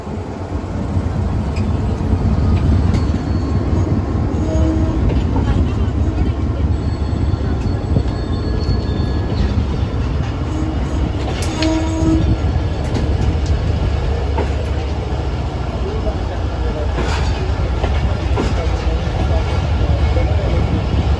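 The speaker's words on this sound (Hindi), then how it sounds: "टू डाउन रवाना होने लगी है गदर से।" Awam Express passenger train pulling away on the Drigh Road to Jungshahi line, a steady loud low rumble of wheels and carriages that holds throughout, with voices talking over it.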